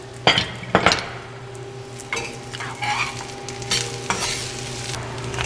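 Seasoned food frying in a pan, flavoured with salt, five-spice powder and white pepper, is stirred with a steady sizzle, broken by a few sharp clinks and scrapes of the utensil against the pan.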